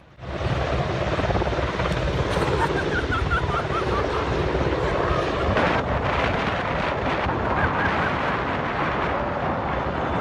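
Loud, steady thudding rotor and engine roar of a heavy-lift helicopter flying close by, with wind buffeting the microphone throughout.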